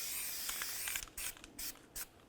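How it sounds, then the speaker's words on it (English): Copper anti-seize being sprayed from an aerosol can onto the brake mating surfaces of a 1999-2007 Chevy Silverado rear hub, heard as a steady hiss followed by three short, close bursts with no talking. "Now we're going to spray down the mating areas with some copper never sees."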